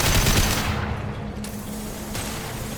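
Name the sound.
gunfire in the video game Mass Effect 2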